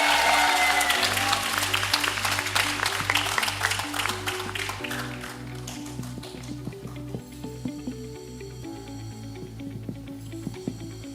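Audience applause welcoming a Hindi stage play at a summer theatre festival, beginning loud and fading into scattered claps as low, steady music tones rise underneath.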